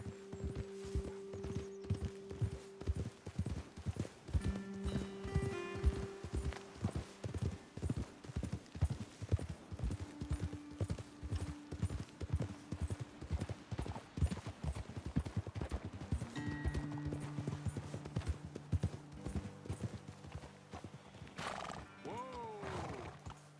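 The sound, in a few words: horse hooves clip-clop, from a video game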